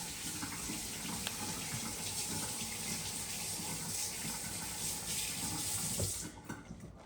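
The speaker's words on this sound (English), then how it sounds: "now let me wash my hands real fast" Water runs steadily from a kitchen tap as hands are washed at the sink. A continuous near rushing splash is heard that cuts off just before the end, with no speech.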